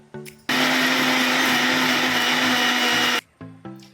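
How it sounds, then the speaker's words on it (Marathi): A mixer grinder whirs loudly for nearly three seconds, blending tomatoes, garlic and ginger into a paste for pav bhaji, with a steady high-pitched motor roar that starts and stops abruptly, framed by brief clinks before and after. "वाटण्यासाठी मिक्सरच्या भांड्यामध्ये टोमॅटो, लसूण, अद्रक हे सर्व आपण एक पेस्ट करून घेऊया."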